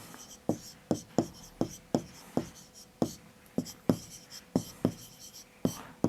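A pen strokes across paper in quick, regular bursts, roughly a dozen short scratchy marks in steady rhythm, close and distinct as numbers are written out during a school maths lesson.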